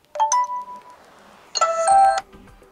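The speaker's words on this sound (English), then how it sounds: "The same for the notification sound" Two short chime-like notification alerts from a Nokia 6300 4G phone sound alone, a brief double tone followed by a longer bright ringing chord, clear and close.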